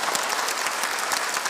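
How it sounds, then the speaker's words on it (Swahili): A church congregation at a parish anniversary celebration claps together in dense, sustained applause, a steady wash of many hands close by. "Makofi kwa Yesu tafadhali."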